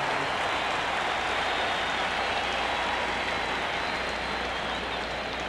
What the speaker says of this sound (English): the fans here giving Gary Gaetti, who was a crowd favorite, a huge round of applause and a standing ovation